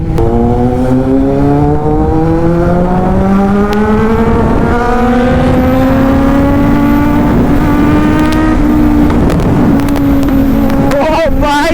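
Two Kawasaki Z900 motorcycles rev hard in a loud, sustained engine roar, pitch rising and falling with throttle changes, with sharp exhaust pops near the end and voices talking underneath.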